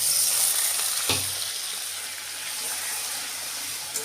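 Onion goes into hot oil seasoned with whole garam masala, a steady hissing sizzle with a brief louder burst early on, then a softer even frying sound close by.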